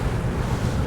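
Wind roars steadily over a small boat at sea on a cold, choppy day, with a dense, continuous low rumble and buffeting close to the microphone.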